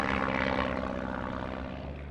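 A Stampe vintage biplane's propeller engine roars loudly overhead during an inverted 360-degree turn, a steady drone that slowly fades as it moves away, with no voices.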